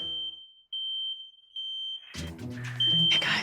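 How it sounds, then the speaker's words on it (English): A loud, piercing alarm sounds to wake people, with repeated steady tones in pulses, then continues under a burst of noisy commotion. "I guess this is the alarm sounder."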